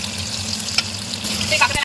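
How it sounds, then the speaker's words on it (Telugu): Boiled bitter gourd pieces roasting in hot oil, giving a continuous close sizzle with a few brief spits and clinks from stirring. "మనం ఇందులో బాయిల్ చేసుకున్న కాకరకాయలను యాడ్ చేసి రోస్ట్ చేసుకోవాలి"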